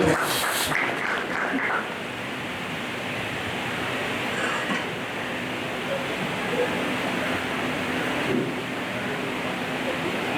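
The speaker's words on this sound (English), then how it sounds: "You can please a round of applause for Raviji Mandhana from Southern India." Audience applause at a Round Table India gathering, a steady wash of clapping that holds at an even, fairly loud level throughout, with a brief voice mixed in near the start.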